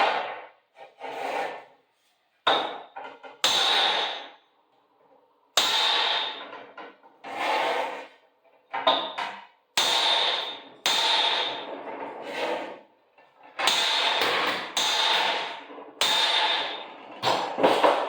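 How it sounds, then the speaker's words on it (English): Loud, sharp metallic hammer blows land on a thick metal bucking bar in irregular bursts, close by, with brief quiet gaps between strikes and no talking. "I have to hammer that down."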